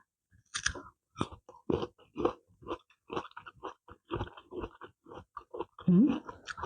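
Someone eats a spicy Thai glass noodle salad with blanched shrimp and fermented pork, with close wet chewing and crunchy bites in an irregular rhythm and brief breaths between mouthfuls.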